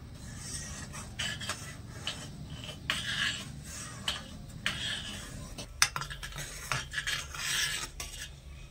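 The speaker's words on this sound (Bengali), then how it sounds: "এবারে নেড়ে চেড়ে দুধটা একটু ফুটিয়ে নেব।" A spoon or spatula scrapes and rasps around a kadai as milk with cracked cardamom pods is stirred while it heats, making irregular close scraping strokes over a low simmering hiss.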